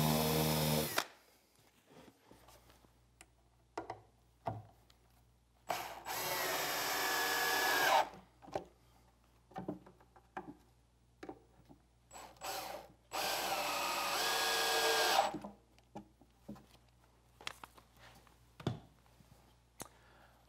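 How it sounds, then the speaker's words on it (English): A power drill bores pilot holes and counterbores into a wooden Shaker-style bench top, with several loud bursts of drilling separated by quieter handling noises and pauses. "Then I'll flip the top over, complete the pilot hole, and drill the counterbores to allow the screws to be set below the surface."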